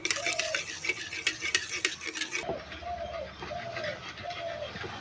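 150 grams of semolina stirred into ghee and water in a pan, with soft scraping strokes through the first half, while pigeons coo steadily nearby throughout.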